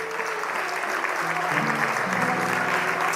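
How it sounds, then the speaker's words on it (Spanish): A church congregation claps in a steady, dense wash of applause during a sermon, sustained throughout with voices faintly underneath. "Fuerte ese aplauso a nuestro Dios"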